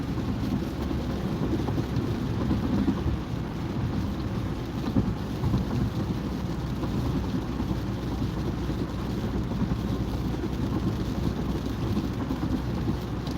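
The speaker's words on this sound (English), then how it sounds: "The rain is starting to pick up." Steady rain pounds on a car at highway speed of about 60 miles an hour, a dense continuous wash of noise with low rumbling that could be distant thunder beneath it.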